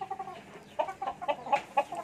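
Chickens clucking softly nearby, a string of short throaty clucks in an uneven rhythm against a quiet background.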